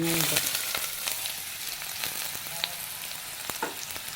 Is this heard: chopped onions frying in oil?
yes